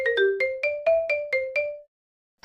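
An incoming call's phone ringtone plays a close, bright electronic melody of about eight short repeated notes, then stops into silence.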